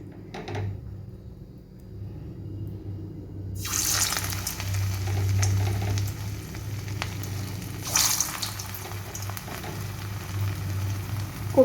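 Pointed gourd koftas drop into hot oil in a kadai. After a quiet start with a faint tap, a loud steady sizzle and bubbling crackle erupts and continues close by, with a brief surge and a small clink near the end.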